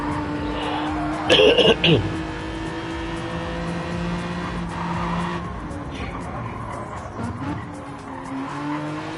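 Race car on a hot lap in a TCR2 sim racing game, its engine droning steadily with a brief burst of tire squeal near the start, all under continuous commentary.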